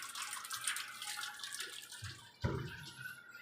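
A top-load washing machine fills with water, a steady faint hiss of running water pouring into the drum, with a brief sharp splash or clunk partway through before the flow continues quietly.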